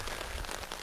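Rain pattering steadily on a tent during a trek through old-growth forest along the Pärlälven river, a dense, even hiss heard from inside the tent, close and continuous with no talking.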